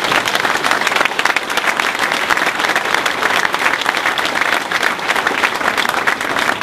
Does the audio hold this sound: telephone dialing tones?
no